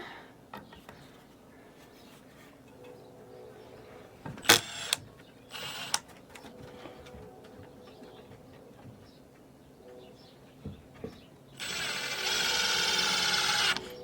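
Body screws driven into the wooden body of a horizontal beehive during assembly, with a few sharp clicks and ratcheting bursts spread over the clip and a louder sustained whir of a driver near the end.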